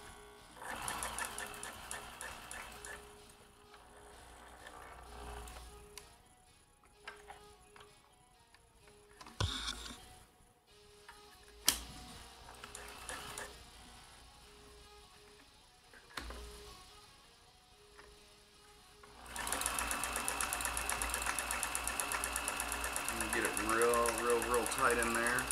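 A vintage Janome Combi DX 502 sewing machine runs at high speed with a fairly quiet, steady mechanical whir that pauses and restarts, growing louder toward the end, while a person talks over parts of it.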